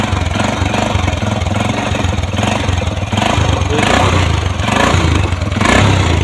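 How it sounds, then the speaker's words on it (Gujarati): A motorcycle engine idles close by, a loud steady low putter with a rapid mechanical rhythm and slight fluctuations, no talking. "આપણે બાઇક સ્ટાર્ટ થઈ ગયું છે"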